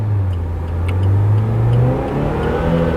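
A car engine revs upward while the car is stuck on an incline, a steady loud mid-pitched drone that climbs in pitch, close by with no talking.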